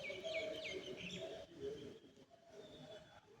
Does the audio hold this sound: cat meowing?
no